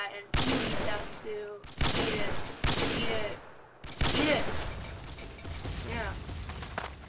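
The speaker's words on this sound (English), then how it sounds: "Teammates' bullets." Gunfire from teammates in the Ace of Spades video game, with several loud bursts of rapid shots separated by short gaps, close and sharp.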